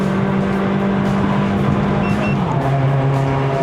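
Engine of a Toyota Vios 1.5J NCP93 with a five-speed manual climbing a mountain road to Genting, Malaysia: a loud, steady in-cabin drone whose pitch holds and then drops as it shifts gears, with no talking over it.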